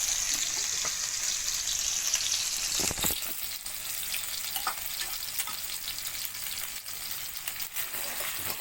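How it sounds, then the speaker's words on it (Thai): Chili paste sizzles and fries in a pan ahead of clams going in, a steady close hiss with brief scraping stir sounds and no talk. "ติดแก๊สแล้ว เดี๋ยวทำการ ผัดนะครับ"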